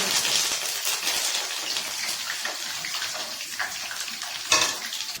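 Curry leaves sizzle and crackle in hot oil while turning golden, a steady loud frying hiss with scattered pops and one sharper burst near the end, no voices.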